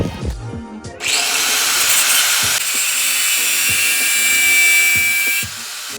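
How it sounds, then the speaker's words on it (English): A Sawzall reciprocating saw cuts through a bolt on a truck, starting after a second with a loud, steady buzzing grind that runs about four and a half seconds close by, then stops abruptly. "The old Sawzall did the job, cut that bolt off."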